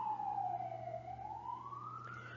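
An ambulance siren wails in a single slow falling-then-rising sweep, steady and moderately distant over a low constant engine hum, with no voices.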